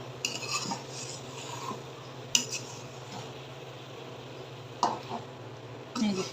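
A spoon scrapes and clinks against a pan while stirring a dry curry of dried fish (shutki) and winter vegetables, a few sharp metallic knocks standing out over faint background sizzle and murmur.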